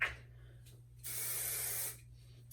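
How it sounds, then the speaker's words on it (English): A single steady hiss of protein smoothing hair spray lasting just under a second, close and fairly loud, with a faint low hum underneath. "So I'm going to quick spray some of this in."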